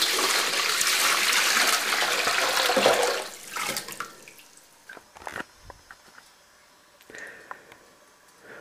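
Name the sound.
warm water poured into a bowl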